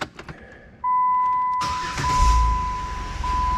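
A Jeep Wrangler JK Unlimited starts up: a brief whine as the ignition is keyed, then the engine catches and settles into a loud, steady idle close by.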